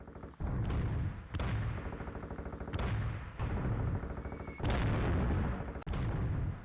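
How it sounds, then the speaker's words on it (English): In the ambient track of the Call of Duty J2ME mobile game, heavy low-fidelity booms and gunfire bursts repeat in a rough rhythm, dense and loud, band-limited and crunchy like a phone speaker. "the ambient track here happens to have an explosion in it"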